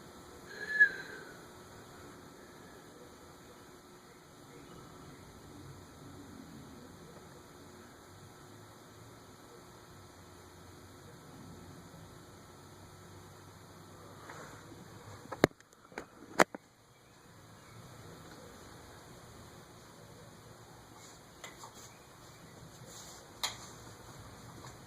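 A Casablanca Zephyr ceiling fan spins down, a faint, steady whir with a soft whistle, broken by a few sharp clicks and knocks partway through.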